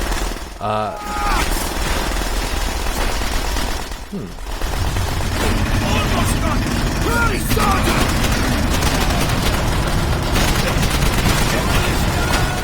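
Rapid gunfire in the video game World at War, bursts of rattling shots and mechanical clatter running loud and nearly continuous after a brief lull, with a voice talking over parts of it.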